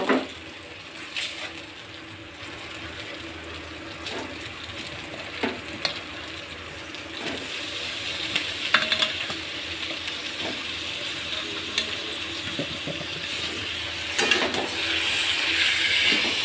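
Meat goes into a pan of fried ginger and garlic and sizzles loudly and continuously, close by, with scattered scraping and clinking from stirring throughout.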